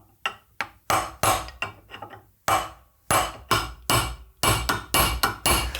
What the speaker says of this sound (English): the goal was to use a chisel to crack the bearing all the way open.